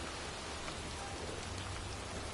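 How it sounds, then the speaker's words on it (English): Heavy pouring rain falls steadily in a cemetery in a PS4 video game, a constant dense wash with no break and no voices. "standing in a cemetery in pouring rain"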